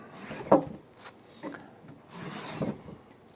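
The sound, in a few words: Chinese wooden jack plane planing hardwood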